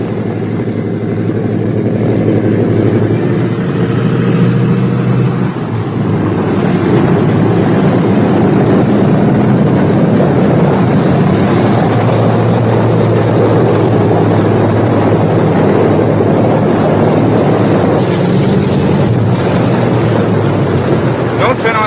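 Engines of a Boeing B-17 bomber run steadily, a loud, continuous droning rumble that holds evenly across the whole stretch with no voices over it.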